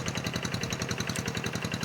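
A hand tractor engine in a rice field, struggling and low on power, runs with a steady rapid chugging pulse, fairly faint and unbroken.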